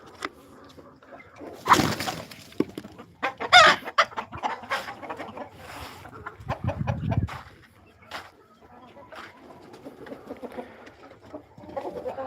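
Chickens on a desi poultry farm cluck and squawk repeatedly at close range, with overlapping calls from a flock and a few sharper cries amid background rustling.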